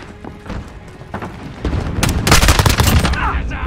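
A custom AUG rifle in Modern Warfare fires in a rapid, loud burst of gunshots after a few scattered earlier shots, the shots crowding together toward the end, close and punchy with a voice faintly underneath.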